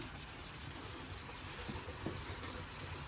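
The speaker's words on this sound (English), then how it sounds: "This is a just a 3M scuff pad, Scotch-Rite pad." A 3M Scotch-Brite scuff pad rubs steadily across a surface, scuffing off the shine ahead of a polyacrylic coat, giving a continuous close, low rasping scrape with small pulses of pressure and no talk.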